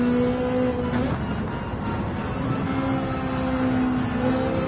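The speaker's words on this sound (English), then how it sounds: "I believe I hear cars behind me." Race cars in a racing game at Autopolis circuit, a steady engine drone with sustained tonal whine running continuously throughout, fairly loud and without talk.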